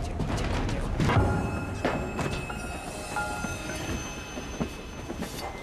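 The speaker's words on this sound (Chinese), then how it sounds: "火车，火车，越开越远。" A train rolls along with a steady rumble and rail noise, a few heavy knocks early on, gradually settling into a continuous hum.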